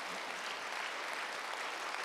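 A church congregation at a Wednesday worship service claps steadily, a dense, even wash of applause with no breaks.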